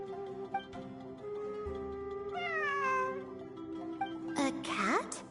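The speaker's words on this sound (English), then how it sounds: "It really is a cat." A cat meows several times, its rising and falling calls near and distinct over a background of music and ambient sound.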